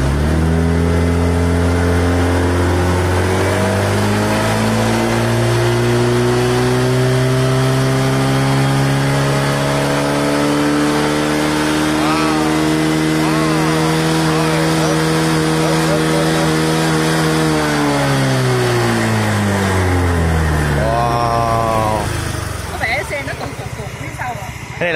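Honda SH 150i ABS scooter from 2020 revving hard with no load, its engine note climbing steadily in pitch for several seconds, holding high, then dropping back to idle; loud and close, with people talking over it.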